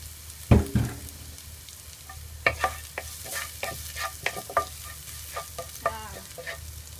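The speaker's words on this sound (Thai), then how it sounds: "แล้วก็ใส่กระเทียมที่เราตามไปนะคะ แล้วก็ผัดให้หอม" Crushed garlic stir-frying in a pan with pickled mustard greens and egg, a sharp clank as it goes in, then repeated scraping stir strokes and light clatter over a steady low sizzle.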